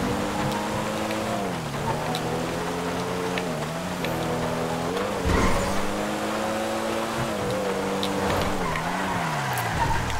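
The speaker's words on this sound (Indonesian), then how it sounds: "Astaga, ini mobil paling ciamik." A car in the video game GTA 5 drives with a continuous engine drone that rises and falls in pitch, while repeated tire skids and squeals cut in along the way.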